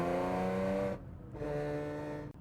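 An Audi S4 with a swapped-in manual transmission revs hard, its engine tone rising, then cutting off briefly for a gear shift before pulling again, loud and close with no talking.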